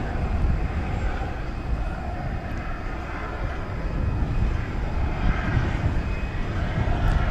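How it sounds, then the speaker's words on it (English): A Boeing 747 arriving from Anchorage at DFW Airport gives a steady, broad jet engine roar at moderate distance, continuous throughout with no talk. "the incoming flight from Anchorage, 747"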